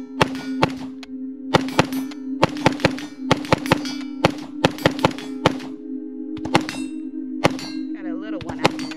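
Rapid pistol shots from a CMMG Banshee MK57 in 5.7x28mm ring off steel targets at an outdoor range, about a dozen sharp cracks with metallic clangs in irregular bursts over a steady low hum, no talking.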